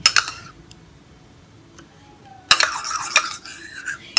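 A spoon stirs homemade night cream liquid in a bowl, giving a brief clinking burst at the start, then a quiet pause before a longer run of busy scraping and clinking against the bowl.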